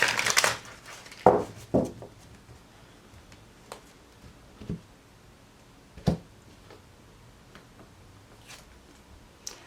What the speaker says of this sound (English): One more shuffle for Aries.